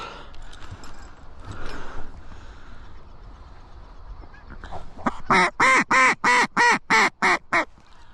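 Ducks quacking during a duck hunt in Alberta, a loud, close run of about eight evenly spaced quacks in the last three seconds after quieter outdoor background noise.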